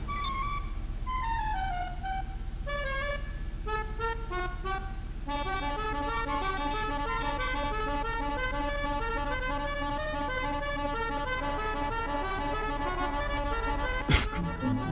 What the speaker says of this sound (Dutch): Jij toetert 3 keer en dan gaan wij toeteren.